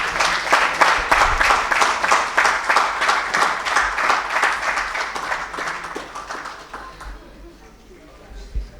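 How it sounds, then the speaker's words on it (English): A hall audience at a corporate awards ceremony claps in a strong rhythmic unison beat for an award winner, loud and regular, then thins out and fades toward the end with some murmured talk. "Can we have a huge round of applause for the winner?"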